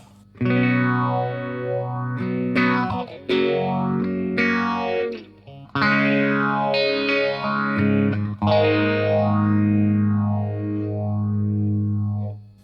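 Electric guitar played through a Strymon Mobius modulation pedal into two amps, sustained chords and notes swept by a wide, wavering chorus-like modulation, loud and close, alone with no talking.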